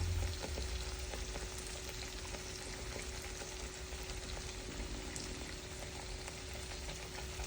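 Chili, turmeric and cumin powders fry in hot oil with a steady close sizzle, while faint scrapes and shuffles from stirring break through the continuous crackle; no voices are heard.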